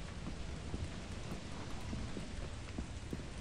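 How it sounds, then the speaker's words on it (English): Steady rain with low rumbling thunder in a video game, a dense continuous wash of downpour with deep rolls underneath and no talking. "Is it lightning or just raining?"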